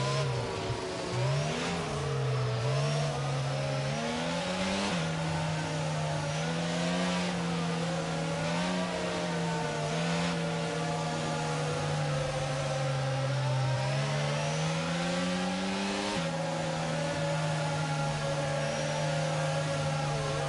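Formula 1 race car engine in a video game at Miami, revving steadily through a lap with rising and falling pitch sweeps as gears change, continuous and loud with no talking.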